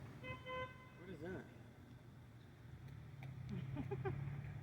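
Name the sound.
fire truck horn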